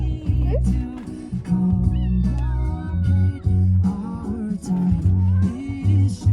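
A cat meows a few times close by, with warbling high calls over a busy low background of music or noise throughout.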